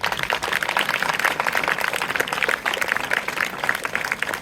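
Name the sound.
applause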